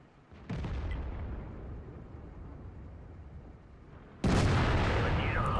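Tank guns fire in World of Tanks, a heavy blast ringing out with a long rumbling tail, then a second loud, sharp cannon shot with a crackling decay a few seconds later.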